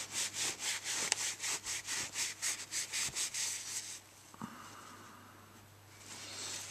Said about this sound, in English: with this dirty rag, give that a good clean off